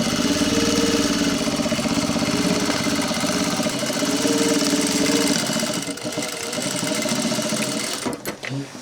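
A sewing machine stitches a seam on a workwear yard jacket, a steady fast mechanical whir running close and loud for about eight seconds before slowing and stopping.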